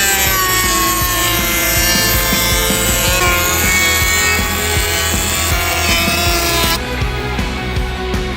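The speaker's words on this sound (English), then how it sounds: "I'm using my hand planer to knock down the high spots or the ridges right here on the edge of my 2x4." A power hand planer shaves the ridged edge of a 2x4, giving a loud, continuous motor whine with a fast, rough cutting chatter that holds steady throughout.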